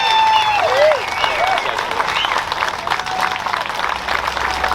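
Applause from a crowd at a Remember the Alamo ceremony after a speech by former Texas Senator Don Huffines, with dense clapping mixed with whistles and cheers, moderately close and sustained throughout.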